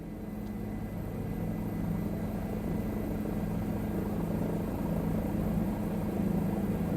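A steady Bell 407 helicopter rotor and engine drone in Microsoft Flight Simulator 2020, loud and unbroken, with a low thrumming hum throughout and no voices.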